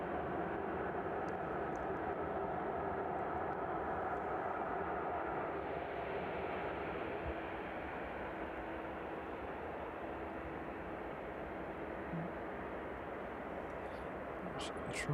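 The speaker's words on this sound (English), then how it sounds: "Once that 757 makes its way down towards runway 27." A Boeing 757 cargo jet approaching runway 27 at East Midlands Airport in the evening, its engines a steady, distant broadband roar that holds through the whole clip with no break.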